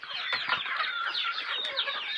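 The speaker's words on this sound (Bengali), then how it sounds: "এখানে আপনার এই দেখেন মুরগি 3টা" Three native hens kept in a cage of bamboo slats cluck and chatter continuously at close range, their busy overlapping calls filling the space with no talking.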